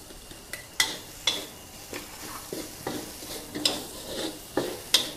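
Minced pork with chili and garlic stir-fries in a pan, a sizzling hiss broken by regular scraping strokes of a spatula roughly every half second, close and with no voices.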